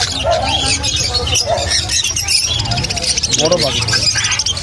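A hand-tame lutino mutation parrot being handled at a pet bird market makes scattered chirps and squawks, with other birds around and people talking over them.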